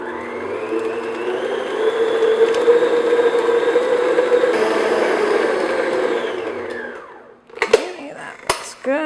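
An electric hand mixer beats cream cheese and butter for pumpkin spice cake frosting, a loud steady whir lasting about seven seconds, then stopping, followed by brief clatter.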